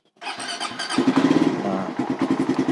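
A Suzuki Satria FI 150 motorcycle engine, with a BRT Juken 5 ECU, cranks and fires up in first gear without the clutch pulled, then chugs unevenly in a rapid pulsing rhythm, close and fairly loud.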